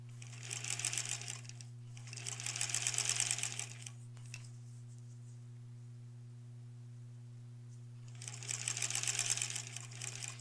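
Sewing machine stitching quilt border pieces, two loud rapid mechanical runs and a third at the end, separated by quiet pauses over a steady low electric hum.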